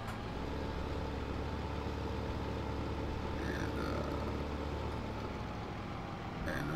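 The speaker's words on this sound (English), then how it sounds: "I apologize for the noise in the background, but they're out there with the leaf blower." A leaf blower runs outdoors on a farm, giving a steady, unbroken engine drone that fills the whole stretch at a constant level, with no talking.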